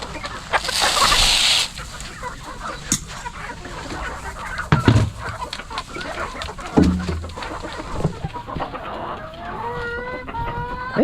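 Pet chickens, hens close to laying, cluck and call in a grassy yard, with a short burst of louder squawking at the start and repeated mid-range clucks spread across the scene.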